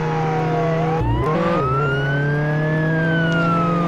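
A wailing siren sweeps slowly up and down in pitch, loud and close, with a brief burst of clattering noise near the start that briefly breaks the tone.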